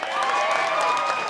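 Comedy show audience clapping at a stand-up gig, a steady wash of applause and crowd noise lasting throughout, moderately loud with no talking on top.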